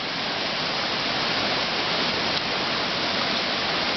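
Fast, swollen river at Sungei Tahan after rain, a steady, dense roar of rushing water that fills the whole stretch evenly and loudly with no pauses and no voices.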